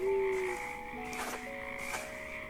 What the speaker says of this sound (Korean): 멀리선 개구리들이 합창을 시작했어요.